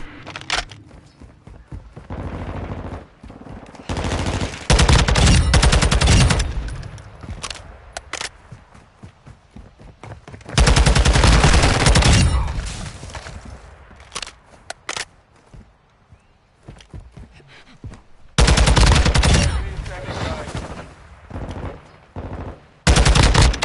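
Call of Duty Modern Warfare 2 gunfire, loud bursts of automatic fire and single shots in irregular clusters separated by quieter gaps with small clicks and movement sounds.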